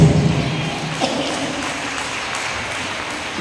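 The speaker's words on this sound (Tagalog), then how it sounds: "Laksan-laksan niyo po yung palakpak sa Panginoon." A church congregation applauds together, a wash of many hands clapping at moderate volume in a reverberant room with a few brighter pings on top.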